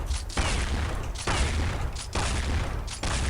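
Sustained automatic gunfire from the Counter-Strike Online weapon, the Big Shark from the Splash series, plays in long, loud, dense bursts with brief gaps between them and no talking.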